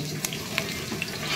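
Onions fry in hot oil with chillies, giving a steady close sizzle and a few light stirring clinks.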